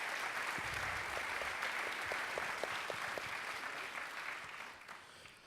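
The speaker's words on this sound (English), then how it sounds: "Please give them a big round of applause." An audience claps at a talk on technology and poverty. The applause is steady and even, stays fairly distant, and fades slightly near the end.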